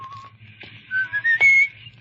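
A man whistles a short rising tune, a few clear sustained notes over a low steady hum, close and fairly loud.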